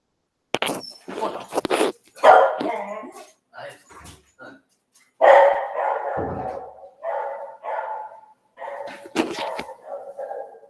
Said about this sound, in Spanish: Ay, perdón, el perro anda ahí de la tos